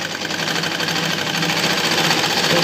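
An electric sewing machine stitches elastic onto a panty, a steady, loud, fast needle chatter running continuously without pause, close up and with no talking.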